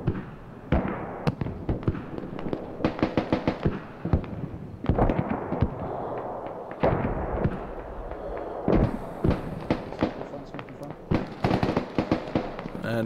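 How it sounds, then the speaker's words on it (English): Gunfire crackles in the tactical shooter game Squad: irregular bursts of rapid shots, some close and sharp, others more distant, broken by short lulls. "Sounds like just the one more firing."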